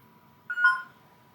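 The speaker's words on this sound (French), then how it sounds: "j'ai été interrompu par du spam téléphonique" A phone goes off during a Sudoku puzzle session: one short electronic tone burst of about half a second, moderately loud, over a quiet room with no talking.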